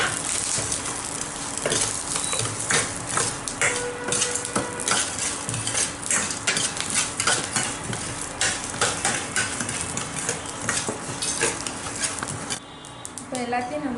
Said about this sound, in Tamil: கொத்தமல்லி, பூண்டு, வெங்காயம், சீரகம், எள் இதெல்லாம் நம்ம வறுத்து எடுக்க போகிறோம்.